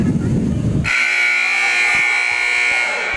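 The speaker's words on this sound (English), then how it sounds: "There's the buzzer." A loud, steady electronic buzzer at a college volleyball match blares continuously after a brief burst of crowd noise, signalling the start of the third set, holding a harsh sustained tone to the end.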